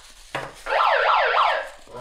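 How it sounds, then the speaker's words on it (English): A prank siren gadget emits a brief warbling electronic wail with a rising and falling tone, loud and close, preceded by a short click. "is that the siren?"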